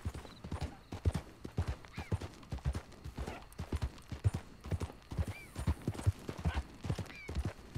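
Horse hooves clip-clop steadily and fairly close in the Red Dead Redemption 2 video game on Xbox One X, a brisk even rhythm running throughout with a brief whinny-like tone now and then.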